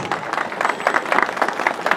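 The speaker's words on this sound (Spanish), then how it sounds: "Y nosotros respondemos con las palmas" A carnival crowd at the Andamarquino festival claps along in steady rhythmic palmas for a chimaichera troupe, a lively patter of many hands pulsing evenly throughout.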